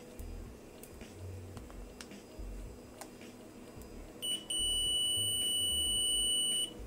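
Multimeter set to continuity during a microwave hardware check gives one steady, high-pitched electronic beep. It starts near the end and holds for about two seconds over faint background noise.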